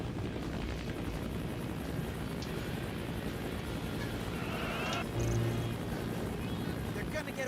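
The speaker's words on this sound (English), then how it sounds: "They're gonna get away with the artwork by taking the helicopter." A helicopter in a Teenage Mutant Ninja Turtles video game gives off a steady, dense rotor roar throughout, mixed with game effects and a brief louder burst partway through, while a player talks over it.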